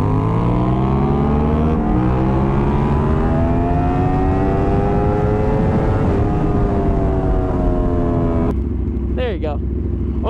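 Aprilia RSV4 sport bike accelerating hard in second gear, loud engine note climbing steadily in pitch for several seconds before cutting off, with a shout heard close by.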